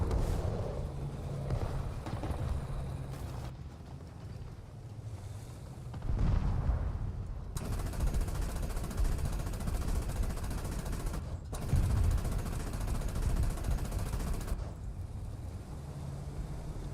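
Machine gun fire in War Thunder, long rattling bursts of rapid shots alternating with brief pauses, loud and harsh, with distant booms of other combat around.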